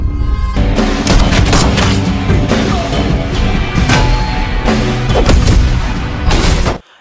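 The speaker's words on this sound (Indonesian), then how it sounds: "Kumar di sana langsung mengeluarkan pistol dan menembak Ragu. Untung saja Ragu cekatan ia langsung menembak mati Kumar dan Naraj" Pistol shootout in an Indian action film, with loud, rapid shots and booming bursts packed close together over a dense music score, running continuously before cutting off abruptly.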